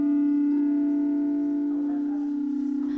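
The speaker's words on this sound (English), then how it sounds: "the melodies of the singing bowls" A singing bowl rings during a sound immersion session in Nairobi, with a sustained, steady tone and shimmering overtones that slowly waver and fade.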